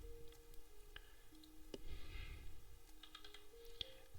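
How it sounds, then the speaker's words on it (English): Light keyboard typing, a few scattered clicks and keystrokes over a steady low room hum, quiet and close. "I'm typing something"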